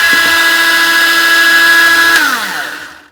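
A Hart rotary tool runs at about 20,000 RPM, a loud steady high-pitched whine held close, then winding down in pitch as it is switched off near the end.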